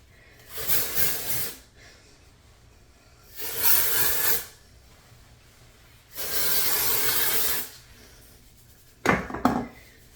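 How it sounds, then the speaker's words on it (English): Dry shampoo hisses from an aerosol can onto hair in three separate bursts, each lasting about one to one and a half seconds, close and clear with pauses between them and a brief clatter at the end. "this is the dry shampoo"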